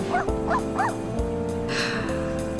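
A dog in The Sims barks several times, three quick yips close together, over a looping game music bed, with no voices.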